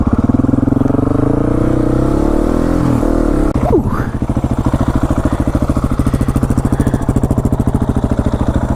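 A Yamaha FZ09 motorcycle engine runs loud and close, a steady rumbling drone that shifts into a rapid, pulsing idle-like rhythm after a brief rev blip midway.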